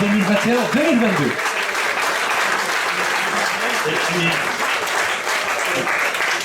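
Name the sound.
audience applause for the sports staff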